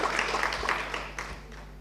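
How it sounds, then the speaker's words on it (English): A short burst of conference audience applause, dense clapping that starts full and gradually thins out over a couple of seconds. "can we give a round of applause for Dr. Ashley?"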